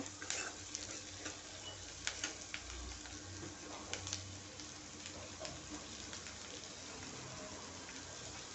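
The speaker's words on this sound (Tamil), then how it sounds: "நல்லா வதக்கி விட்டுக்கோங்க." Flattened rice upma with curry leaves, salt and turmeric being stirred and sautéed in a pan, a steady soft sizzle with scraping stir strokes throughout, fairly quiet and without talk.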